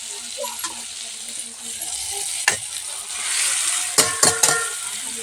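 Maggi noodles stir-fry in a pan with softened tomatoes under a steady sizzle, broken by sharp clinks and scrapes of a spoon against the pan in quick bursts.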